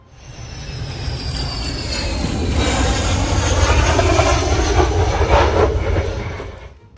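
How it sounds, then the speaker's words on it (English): A Su-25 Frogfoot jet with apparently malfunctioning landing gear approaches a landing strip, its engine roar building steadily and holding loud and broad before easing off, with a faint high whine on top. "a Su-25 aircraft with apparently malfunctioning landing gear can be observed making a cautious approach to a landing strip"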